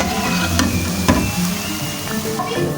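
Potato and onion pakoras frying in hot oil, a steady busy sizzle and crackle with occasional sharper pops, close and continuous with no talking.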